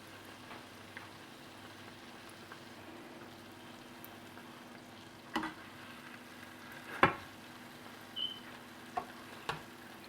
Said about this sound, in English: turn it around and just fry it till that one too is golden brown